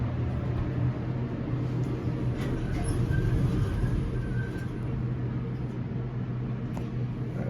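A Schumacher hydraulic elevator running at CU Arnett Hall in Boulder, Colorado: a steady, loud, low mechanical hum and drone that holds evenly throughout, with faint higher whines and small clicks riding on top and no talking.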